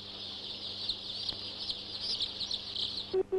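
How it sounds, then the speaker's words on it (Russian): Incubator-hatched chicks cheep faintly in a continuous high chorus of peeps, fairly distant and steady, with a low hum underneath. "А эти цыплята не слышали голоса мамы."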